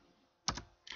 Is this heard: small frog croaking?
no